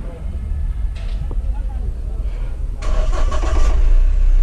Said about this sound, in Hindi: पहले करते हैं गाड़ी को स्टार्ट।